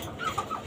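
A white desi hen on a rooftop caged farm gives a few short, soft clucks at close range, faint against a steady background of farmyard noise.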